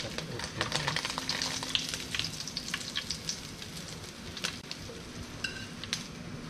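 Tilapia frying in a pan, a steady dense crackle and sizzle of hot oil with scattered sharper pops, close and continuous throughout.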